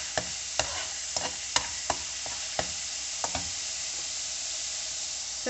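Ginger garlic paste fries in a tablespoon of oil with a steady, moderate sizzle, broken by a dozen light scraping stirs of a spoon in an uneven rhythm, heard close up.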